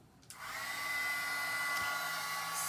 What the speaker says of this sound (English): I'm gonna heat tool this.